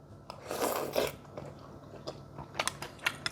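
Close, soft chewing and biting on Korean rice cake soup made without bone broth, with irregular moist crunches and a few sharper clicks, no talking.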